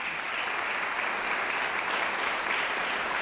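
A breakfast-event audience at a health disparities gathering applauds in honour of Mr. John Bacchus. Even, sustained clapping from many hands continues at a steady moderate level for the whole stretch.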